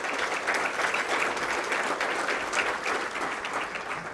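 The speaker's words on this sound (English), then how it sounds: "let's give the entire board and people a big round of applause" A chamber of commerce audience in Princeton bursts into sustained applause for a regional board and its staff, a steady wash of many hands clapping at even loudness with no voice over it.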